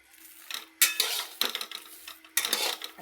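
Sweet corn roasting in a pan and stirred with a utensil: a few close metallic scrapes and clinks arrive in short bursts, with no talk.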